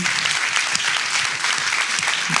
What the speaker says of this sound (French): Je vous demande d'applaudir Davy Chou, messieurs dames.